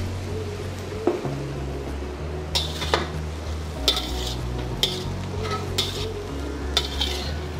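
Fried potatoes are stirred into minced beef and pork for Macanese minchi, with a soft sizzle under repeated scraping and clinking of a utensil against the pan, several distinct strokes spaced about a second apart.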